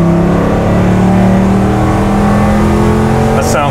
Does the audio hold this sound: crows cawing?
no